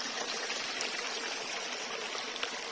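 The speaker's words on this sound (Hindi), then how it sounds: "पानी की खूबसूरत आवाज" A mountain stream in the village of Arokas near Murree rushes and trickles steadily over rocks, a continuous bright hiss of flowing water, close and even, with no voices.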